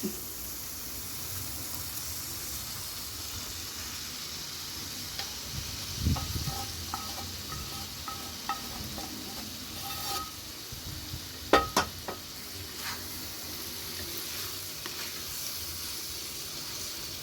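Paneer sizzles in a pan while being stirred, a soft steady frying hiss broken by occasional scrapes and clinks of a spoon against the pan, fairly quiet and close, with no talking.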